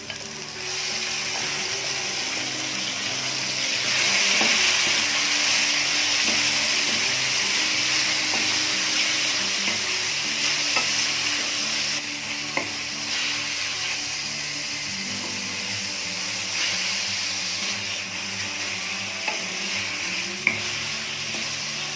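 Chicken pieces fry with chopped garlic in a pan, giving a continuous hissing sizzle with occasional stirring clicks and a brief swell of steam, and no voices over it.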